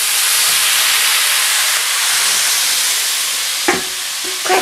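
A hot, smoking wok sizzles loudly in a steady, dense hiss as food hits the oil and is stir-fried, with a couple of brief clanks near the end and no voices.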